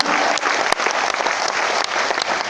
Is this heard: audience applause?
yes